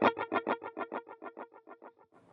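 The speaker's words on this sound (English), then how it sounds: "the delays are turned on together, which gives it a gallop effect" Electric guitar through two stacked delays creating a galloping echo, a single note repeating in quick rhythmic pulses that fade steadily over about two seconds.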